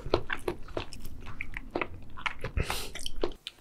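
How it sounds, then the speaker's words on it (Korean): Close mouth sounds of someone chewing a salmon dish, wet squishy bites and slurpy crunches in an irregular rhythm, fairly loud, with no talk. "와, 무슨 면 먹는 것 같아요 소리가."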